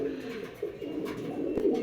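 A male blue-bar shadel pigeon coos at a pigeon sale, low throaty rolling coos repeated several times close by, over a soft background murmur.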